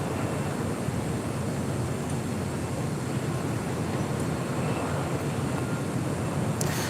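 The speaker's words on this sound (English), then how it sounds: "The 737 MAX 8 or the Emirates A380 should be crossing over 25 right here" A jet airliner, a Boeing 737 MAX 8 or Emirates Airbus A380, crosses near a runway at LAX, giving a steady, loud, broadband roar that holds without a break and is heard on its own.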